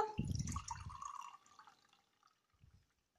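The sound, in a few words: water being poured and dripping into a container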